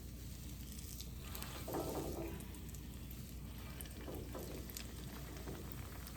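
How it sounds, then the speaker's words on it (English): A piece of eggplant is dipped into hot frying oil as a test, giving a soft, steady sizzle that swells briefly and crackles quietly throughout. "Test the oil to see if it's ready. So I dip."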